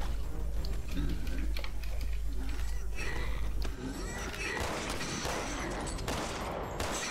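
Rapid close-range rifle shots in the Resident Evil 6 video game, a dense crackling volley of sharp reports that runs throughout, loud and continuous, mixed with game noise.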